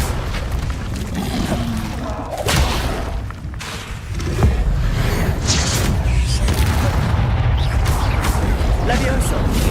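Incendio fire spell cast in Hogwarts Legacy: loud booming bursts and a roaring, crackling rush of flame effects fill the stretch, with a voice speaking over the game sounds.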